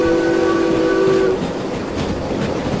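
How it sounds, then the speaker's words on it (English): Loud steam locomotive whistle from Derail Valley, blown as a single sustained blast of about a second and a half over the rumble of an 800-ton freight train, then cutting off while the train keeps rolling. "Whistle."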